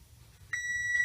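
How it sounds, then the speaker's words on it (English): An oven timer sounds a single sustained electronic beep that starts abruptly partway through and holds steady to the end, clear and close against a quiet room. "Beep. Turn the oven off, Caleb."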